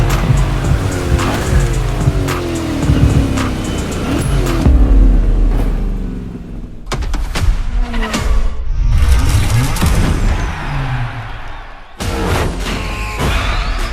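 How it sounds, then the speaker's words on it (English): Cars race and slide through a gymkhana course in The Crew Motorfest, with loud engine revving, repeated tire squeals and skids, and brief gaps between bursts. "Gymkhana Grid Masters playlist"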